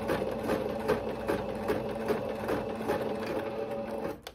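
A sewing machine stitches fabric for ruffle tutu socks, a steady rapid mechanical whir with a rhythmic needle pulse, close and continuous, then it stops right at the end.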